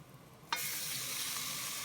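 Pork hits a hot pan with ginger and garlic, bursting into a sudden loud sizzle halfway through that keeps frying steadily and close, after a quieter background crackle.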